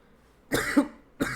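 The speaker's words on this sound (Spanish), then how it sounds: "Un poquito de gripa. Tos." Two short, close coughs from a person with a slight flu, separated by a brief pause, with no talking around them.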